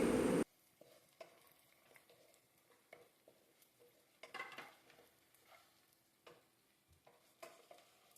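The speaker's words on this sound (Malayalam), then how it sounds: "എല്ലാം കൂടി ഇളക്കാം" A spoon works turmeric into mushroom curry ingredients in a pan, producing quiet, scattered scrapes and taps with a faint sizzle underneath, after a brief loud burst at the very start.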